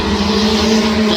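A race car roars past at an oval dirt speedway during a heat race, its engine a loud, steady drone close by with a faint tire hiss, heard alone.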